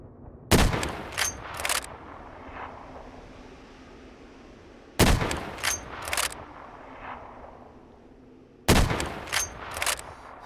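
Gunfire in modded 7 Days to Die: three loud, close volleys spaced several seconds apart, each a sharp crack followed by a couple of quicker shots, with quiet ambience in between.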